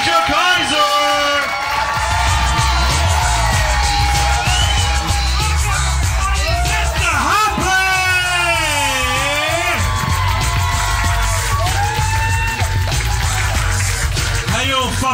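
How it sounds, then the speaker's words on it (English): Audience at a stand-up comedy show yelling, whooping and cheering loudly and steadily for a comedian taking the stage, a dense crowd roar with shouts rising over it throughout. "Let's get applause going"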